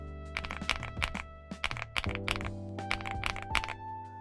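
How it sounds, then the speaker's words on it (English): Close, steady typing on a mechanical keyboard loaded with Milky Yellow Pro switches, a stream of sharp clacks in quick uneven bursts with brief pauses and no speech. "These are the Milky Pro."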